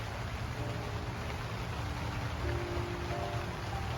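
Steady rain patters on a plant nursery polytunnel, a dense, even hiss with a low drumming undertone running throughout at moderate volume, with no voices.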